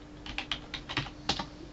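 Keystrokes on a computer keyboard tap out text in a quick, uneven run of about eight close, crisp clicks over a faint steady hum.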